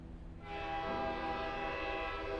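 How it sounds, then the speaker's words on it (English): A loud train whistle in the Girls Frontline 2 video game sounds over a low rumble as a fully loaded train starts moving, the tone holding steady after a short quieter lead-in. "Soon there's a loud whistling as the fully loaded train launches into motions, gradually picking up speed"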